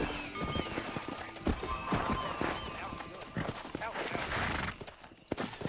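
A horse galloping in the western video game Red Dead Redemption, with a quick, steady run of close hoofbeats, a whinny over the top and a few sharp knocks near the end.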